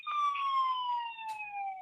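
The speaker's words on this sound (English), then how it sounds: "The sirens" A siren wails steadily in the distance, its tone sliding slowly downward, faint and thin as if heard over a phone line.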